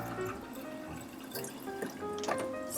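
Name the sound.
pouring soaking water out of a mason jar of sprouting beans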